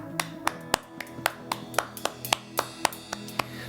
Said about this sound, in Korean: 우리 기쁨과 즐거움으로 주님께 영광의 박수 올려드리겠습니다